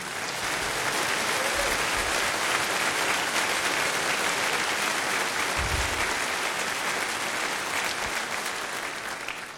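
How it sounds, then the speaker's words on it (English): Large conference hall audience at the FOSDEM 2018 closing session applauding volunteers, a long, even wash of clapping from many hands that fades slightly at the end. "just come down and share the applause"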